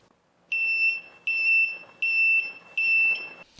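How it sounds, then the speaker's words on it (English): An OUJVAN Q3T security alarm light buzzer sounds loud, close, piercing tone bursts, four evenly spaced pulses with short gaps between them, alone without talk. "The buzzer can reach more than 95 decibels, and its volume can be adjusted."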